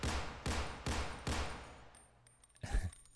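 Four evenly spaced gunshots ring out in a retro PS1-style horror game, sharp and reverberant, followed by quieter clatter and a final thud.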